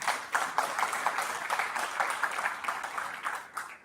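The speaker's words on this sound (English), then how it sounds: "A round of applause for Janelle as well." Applause at a county board meeting, a modest group clapping in uneven bursts in a meeting room, moderately close and fading toward the end.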